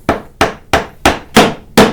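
A mallet drives a chisel into wood while paring a scarf joint: six sharp, loud, close knocks at an even pace, each with a brief ringing decay.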